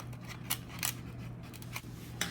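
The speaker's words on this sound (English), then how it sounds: "you can clean it up a little bit with your scissors if it's a little jagged looking" Scissors snip at the edge of a paper plate in a few quiet, separate cuts over a low steady hum.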